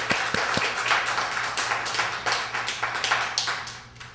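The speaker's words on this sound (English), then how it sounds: "So let's give Jenny Powell a great round of applause" Small audience at a library poetry reading clapping for a poet, a modest scatter of individual claps with a few sharp close ones, thinning out toward the end.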